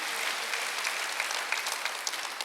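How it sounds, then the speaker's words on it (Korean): A church congregation at a Sunday worship service claps together during the sermon, a brief, fairly rhythmic burst of many hands with steady, evenly spaced accents throughout. "하나님께 속하면 하나님께 다 내 건 거면 빨리 박수를 하세요"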